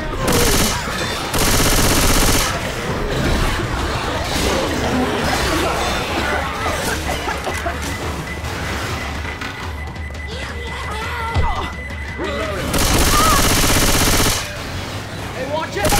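Gunfire in the Left 4 Dead 2 zombie shooter, rapid automatic bursts and repeated shots cutting in and out, loud and dense, with game voices and crowd noise mixed underneath.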